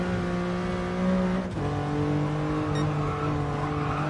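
Lamborghini Countach racing engine in Gran Turismo Sport, a steady loud harmonic drone that briefly dips and shifts pitch mid-clip as if changing gear, then holds on at a constant rev.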